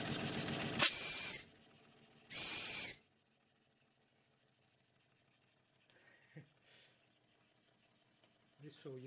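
A steam whistle doubling as a safety valve on a small boiler at about three-quarters of a bar blows two loud, shrill hissing bursts close by, then falls to near silence.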